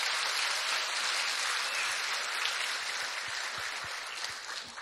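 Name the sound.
audience applause for pageant contestants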